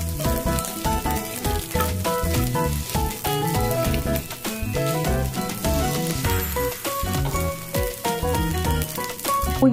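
Butter fried rice with egg and vegetables sizzling loudly in a pan while being stirred, a dense continuous crackle with scraping and clinking from the utensil, no talk.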